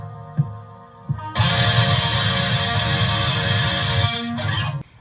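Electric guitar through a Small Clone chorus pedal and a Fender Rumble 25 bass amp, shimmering, a sustained wash of chords after a couple of plucked notes, fairly loud and steady with no voices.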